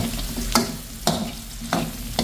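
Meat sizzles steadily in hot oil, with a sharp scrape of stirring about every half second.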